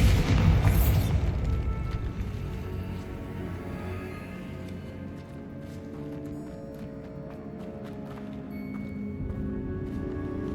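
A Bombarda spell explosion in the video game Hogwarts Legacy: one loud, close boom at the start that decays into a long rumbling tail, with faint tonal game sounds lingering under it.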